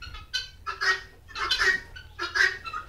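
Hens on a poultry farm raising laying birds, a series of close, loud clucking and honking calls repeating in quick bursts with short gaps between them.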